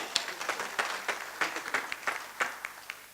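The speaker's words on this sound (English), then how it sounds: "Let's give him a big round of applause." Audience applause follows a speech at a US India Partnership Day celebration: a steady run of many hands clapping in a hall, moderately loud and heard on its own without talk.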